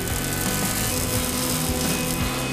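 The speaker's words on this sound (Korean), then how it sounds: "전기톱에 나무를 밀어넣기만 하면 되는 듯 보이지만" Electric saw trimming wood at a traditional handmade furniture workshop, a dense, loud continuous whine and rattle of the blade biting into timber with no talking.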